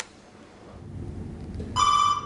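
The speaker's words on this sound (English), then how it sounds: "When the phone rings" A telephone starts ringing near the end, a bright, loud electronic trill cutting in after a quiet stretch of low rumbling room noise.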